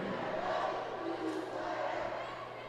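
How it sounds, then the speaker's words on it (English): A crowd at a college volleyball match between Iowa Central and DMACC cheers and roars in a gym, a loud sustained wash of voices with a commentator talking over it. "They're loud, they're proud, cheering on Iowa Central."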